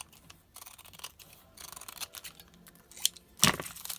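A strip cut from a large sheet of adhesive-backed bling gems, with a few quiet, close snips and crisp crackles. The sharpest cut lands near the end, over faint handling rustle.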